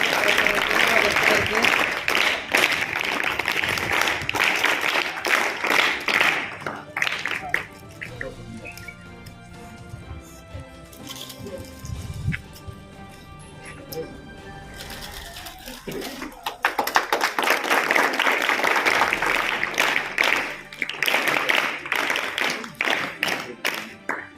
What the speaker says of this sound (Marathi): सर्वांनी टाळ्या